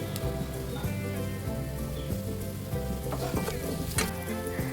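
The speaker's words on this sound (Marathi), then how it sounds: "मीडियम फ्लेमवर थोडं परतून घ्यायचं आहे आणि मोठ्या आकारात कट केलेला कांदा आणि शिमला मिरची टाकायची" Large-cut onion and capsicum are stir-fried in a pan over a medium flame. A steady crackling sizzle runs under background music with a sustained tone.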